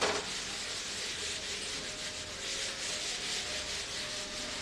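A duster or cloth rubs writing off a classroom board in a continuous scratchy swishing wipe that stays close and fairly even throughout, with no voices.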